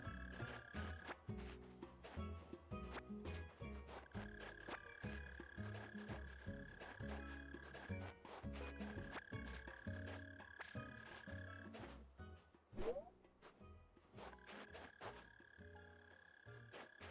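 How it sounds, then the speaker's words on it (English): Frog croaking in Animal Crossing: New Horizons, repeated throaty calls running through the length of a busy game soundtrack, with steady music and effects layered over them and no voices. "I hear that noise, and it sounds like a frog"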